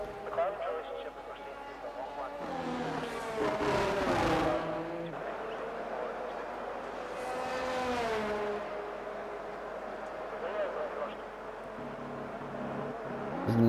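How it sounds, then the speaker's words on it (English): A McLaren race car roars past in a racing video game, its engine note rising and falling in two sweeping passes with gear shifts, under continuous commentary. "The McLaren of Shax goes by"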